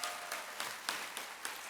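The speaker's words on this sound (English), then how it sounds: "Let's give our students another round of applause as they get ready to walk the stage here" An audience at a high school commencement claps for the graduating students, a distant, fairly faint wash of applause with soft rhythmic swells.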